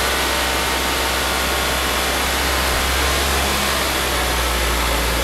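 A Mazda CX-9 2.5 turbo engine is held at about 2,000 rpm during intake valve and turbo cleaning, giving a loud, steady, close whooshing roar that barely changes.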